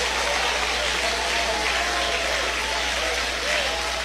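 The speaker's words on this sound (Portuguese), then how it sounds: "Batam palmas e glorifiquem ao Senhor." A church congregation claps together in sustained, dense applause filling the room, with voices mixed in beneath the steady clatter of hands.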